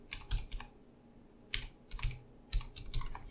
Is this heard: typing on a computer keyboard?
yes